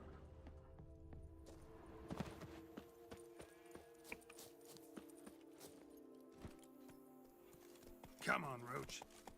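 Roach the horse in The Witcher 3 Blood and Wine, with steady clip-clopping hoof beats on hard ground, fairly quiet under soft game music, and a whinny-like call near the end.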